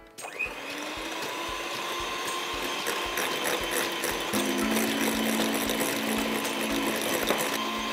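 A hand-held electric mixer starts up and runs steadily, whipping egg whites as cornstarch is added a little at a time, with a loud continuous motor whine and a slight shift in pitch partway through.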